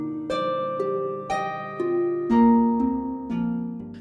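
Music generated from the shape of the SARS-CoV-2 coronavirus spike protein, a sequence of plucked, harp-like tones, about eight struck notes stepping across a couple of seconds each, clear and close with no voices.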